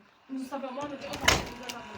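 A door opens in a video game with a brief sliding thud, heard close and under someone talking.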